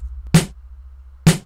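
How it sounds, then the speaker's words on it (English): Two sharp acoustic snare drum hits about a second apart, each a bright crack with a short rattling decay, played alone. "and the snare right here."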